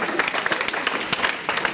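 A group of students at a college induction session clapping together, a short burst of scattered hand claps from a small crowd in a room.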